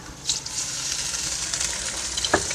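Ginger garlic paste frying in a pot for pulao, with a splash of water added near the end that brings a brief louder burst over the steady close sizzle.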